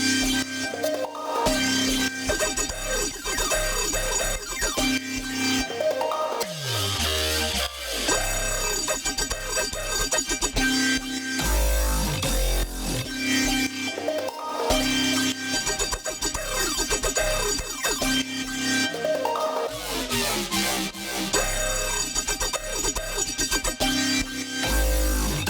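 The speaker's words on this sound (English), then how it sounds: "the drop sounds like this" An electronic music drop from a track, dense layered synths with reverb over a pulsing low end, loud and continuous throughout with no speaking.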